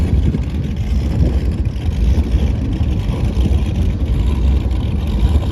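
A loud, close boat engine runs steadily with a rough, throbbing drone, no voices over it.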